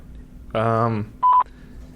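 Telephone call tones sound on a phone line: a half-second buzzing tone, then after a short pause a clear high electronic beep, with faint line hiss around them.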